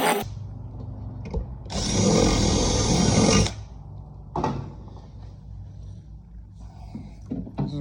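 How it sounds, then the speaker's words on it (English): A power drill bores out glue-clogged mounting holes on a DD Audio 9500 series subwoofer during a 15-inch to 12-inch swap, with one loud sustained burst of about two seconds framed by quieter clunks and handling knocks. "we will drill them out a little bit larger"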